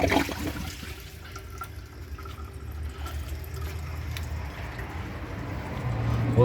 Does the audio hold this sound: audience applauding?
no